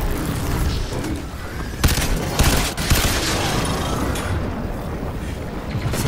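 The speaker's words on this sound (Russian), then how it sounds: "Посмотрите на эти патроны разрывные." Explosive-round gunfire in the video game Crysis 3: rapid loud bursts with sharp blasts cracking through a steady roar of action noise, close and heavy, with several distinct heavier hits near the middle.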